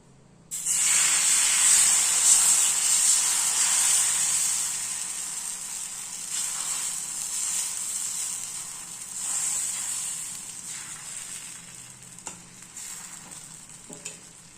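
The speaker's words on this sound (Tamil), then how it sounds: "இப்போ நம்ம ராகி தோசை ஊற்றிக்கலாம்" Ragi millet dosa batter poured onto a hot pan, an abrupt loud sizzle that rises at once, then settles into a softer steady hiss with occasional small crackles, close up and without voices.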